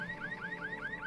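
A video game alarm wails in a steady repeating siren, rising and falling about every fifth of a second, loud and continuous with no voices over it.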